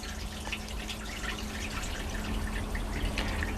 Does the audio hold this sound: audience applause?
no